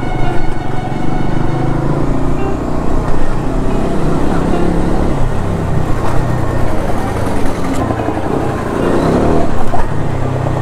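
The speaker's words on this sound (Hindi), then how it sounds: "कितना ट्रैफिक है यार, कितना ट्रैफिक है वाकई में ना।" Dense road traffic with cars and motorcycles, likely heard from a Bajaj Dominar motorcycle riding through it: a loud, continuous rumble of engines and tyre noise with passing vehicles throughout.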